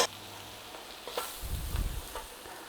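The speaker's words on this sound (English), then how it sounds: "just cook out the rawness of that flour" Flour and curry powder cooking in a pan, a soft, low sizzle heard up close, with faint scraping strokes and a brief stronger stirring rumble in the middle, quiet and without talk.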